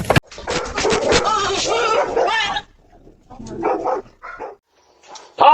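Several dogs bark loudly and rapidly in a close burst while chasing a delivery man, then give a few shorter yips and barks after a pause.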